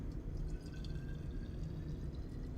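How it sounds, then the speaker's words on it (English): Liquid for tissue culture, MEM or PBS, pours steadily into a laboratory bottle, a continuous close trickling wash with faint dripping and no talk. "Again, pour that in."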